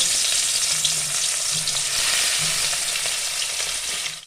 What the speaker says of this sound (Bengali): তেল গরম হয়ে গেছে বন্ধুরা, এবার আমি মাছগুলো ভেজে নেব।